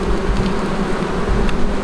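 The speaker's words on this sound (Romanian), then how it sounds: "Beni, atâta de bine îmi place cu albinele astea, că mi-ai dat curajul să-mi iau și eu 2 stup" Honey bees buzzing around a backyard hive holding brood, a steady close hum with no speech.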